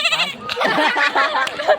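A person imitates a goat's bleat, a short nasal wavering call of under two seconds, loud and close with no other sound.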